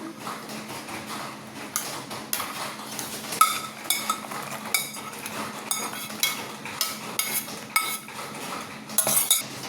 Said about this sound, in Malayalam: നമുക്ക് ഇതിലേക്ക് മിക്സ് ചെയ്ത് കൊടുക്കാം